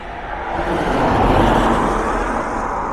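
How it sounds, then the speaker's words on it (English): Road traffic passes on the A83 through Glencoe, a steady broadband vehicle roar that swells and holds as cars go by close to the roadside, with no talking. "Just wait for this traffic to go by."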